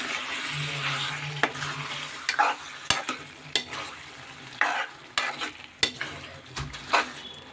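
Chicken gravy masala curry being stirred in a pan with yogurt just added, a steady sizzle beneath repeated sharp scrapes and clicks of a spoon against the metal, close and fairly loud with no talking.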